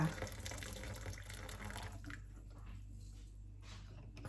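Water runs from a tap into a pot before boiling for pork rind snacks, a steady close gushing stream that thins out toward the end, with faint background noise and no talk.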